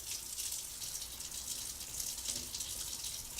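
Tap water pours steadily in a narrowing column, a continuous close hiss and splash with no pauses and no talking.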